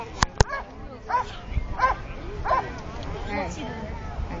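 A military working dog at an Air Force base air show demonstration whines in repeated high, rising cries and gives short yips, mixed with outdoor crowd noise and people talking nearby.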